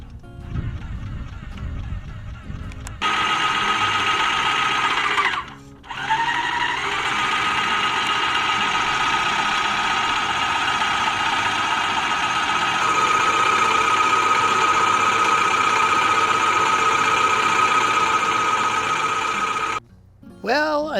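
A paint sprayer machine runs steadily while being cleaned out of residual paint after painting fascia and eaves on a house, a loud continuous motor drone with a high whine, briefly cutting out twice before resuming.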